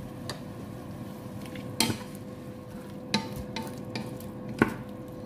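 Caponata vegetables with green olives and water get stirred in a pan, a spoon scraping and clinking against the metal in a few sharp knocks over a soft, steady simmering hiss, with no voices.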